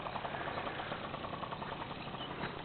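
A Yamaha TZR 80cc motorcycle engine idles steadily, a continuous faint mechanical drone with a slight knocking pulse and no talk over it.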